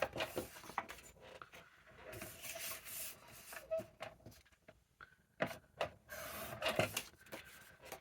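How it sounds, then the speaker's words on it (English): Cream grid scrapbook paper being cut in two, heard as close, intermittent rasping and snipping strokes with small taps and rustles between them, fairly quiet with no talking. "So let's get this cut"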